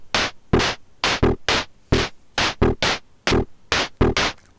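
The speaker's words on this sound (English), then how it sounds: "Let's now fade up the second channel with the white noise." A Befaco Percall Eurorack synthesizer module fires short bursts of white noise in a quick rhythmic pattern, about a dozen hissing hits with sharp attacks and brief decays, loud and alone.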